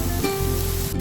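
Water splashes into a hot pan of frying kochu loti (taro stolons), raising a steady, loud hiss and spray-like sizzle that runs the whole short moment without pause.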